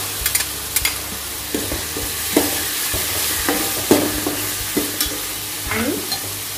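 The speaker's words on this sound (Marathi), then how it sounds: "कांदा परतत असतानाच त्यात मी आले लसूण पेस्ट टाकते।" Onion with ginger-garlic paste sautéing for pav bhaji, heard as a steady sizzle broken by repeated scraping and stirring strokes of a spoon in the pan, fairly close and moderately loud, with no talking.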